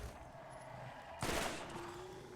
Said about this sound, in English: These are probably the only burst fire weapons I'll really ever use in a game.